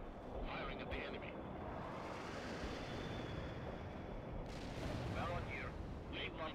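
Battle sounds in the video game World in Conflict, a continuous dense rumble of artillery and gunfire with deep booms, with radio voices speaking over it.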